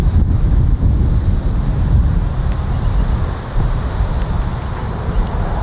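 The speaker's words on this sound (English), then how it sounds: "Considering there's a really hard left to right wind, that's really strong." Strong, steady wind blows hard across the microphone in a continuous low roar and buffeting, loud and close with no pauses.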